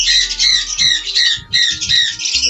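Pet birds at a bird dealer's, among pairs of lovebirds, squawk loudly and repeatedly in close, harsh bursts with barely a pause, a busy near chorus with no talk.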